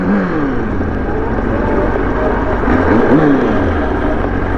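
A motorcycle rides into a store parking lot, its engine droning steadily up close with wind rumble and a couple of rising and falling revs as it slows.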